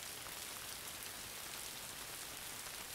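Steady, even rain falls and patters on surfaces without a break, soft and continuous.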